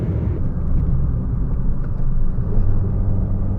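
A 2025 Mazda CX-30 small SUV carving through turns, heard as a steady low road and engine rumble from inside the cabin, even and continuous with no talking.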